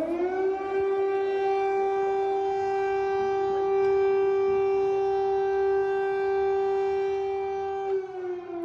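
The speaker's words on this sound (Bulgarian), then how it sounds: "Киев се събуди с вала на сирени за въздушна тревога." A civil defense air raid siren wails over Kyiv, a loud steady drawn-out tone with strong harmonics that holds for several seconds before dipping slightly, with no voices.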